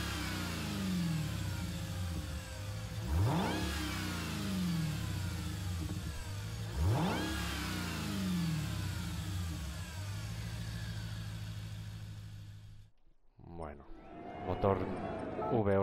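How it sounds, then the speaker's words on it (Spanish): A V8 safety car engine in Gran Turismo Sport idles with a deep rumble, then revs hard twice in rising sweeps and settles back, followed by a brief cutoff and a final short throttle blip. "Este es el ruido del motor."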